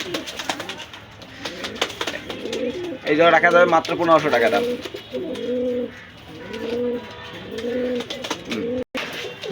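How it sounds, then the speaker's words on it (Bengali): Pigeons at a bird shop in Gollamari, Khulna, including a pair of wild pigeons, coo repeatedly in soft rhythmic bursts close by while someone talks over them. "এক জোড়া অরিজিনাল বুনো কবুতর আছে, একেবারে পারফেক্ট।"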